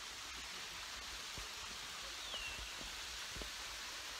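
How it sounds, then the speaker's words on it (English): Steady broadband rush of falling water from a waterfall and stream at Waterfall Gully, a continuous wash of spray and splashing heard nearby with a few faint clicks and no talk. "And there's a stream of water running on my left, which is a waterfall."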